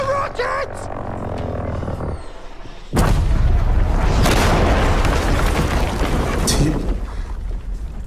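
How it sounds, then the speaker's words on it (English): Rocket explosions from the Battlefield V reveal trailer: a faint rumbling passage gives way to a sudden loud blast and a long roaring, crackling wash of explosions and fire that stays dense to the end. "That's the rockets!"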